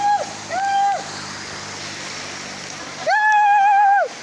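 A forest waterfall rushes as a steady, broad wash of water noise, while a voice rises over it in short tonal calls at the start and near the end.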